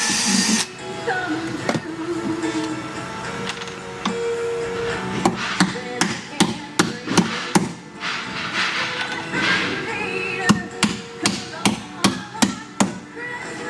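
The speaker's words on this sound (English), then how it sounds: "He'll hand nail those and then use the air gun for the rest." Hammer blows driving 8-penny ring shank siding nails into wood by hand, a rapid run of sharp strikes mid-clip and another steady series near the end, over workshop noise and some voice.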